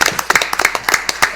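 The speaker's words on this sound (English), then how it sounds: "clap for Jill" A small audience at a county fiscal court meeting claps, giving a loose scatter of distinct hand claps at close range in an uneven rhythm, with no voices over it.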